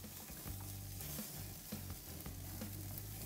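Lamb T-bones sizzle and crackle steadily on a Grilla grill as fat drips and flames flare up, a dense close frying hiss with scattered pops and no voices.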